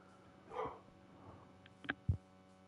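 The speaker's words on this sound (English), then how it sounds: "Golly, they just keep barking." Dogs bark faintly in the distance, giving a few soft yips and short barks near the end over a quiet room background.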